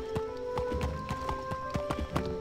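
A horse mount runs in the online game Wizard101, its hooves clip-clopping in a quick, steady rhythm over sustained tonal game music.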